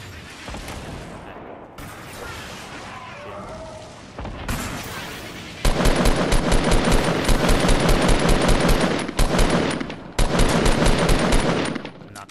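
Fortnite Battle Royale gunfire, first softer shots under players' chatter, then loud sustained machine-gun bursts with rapid, even shots close by, broken by brief pauses.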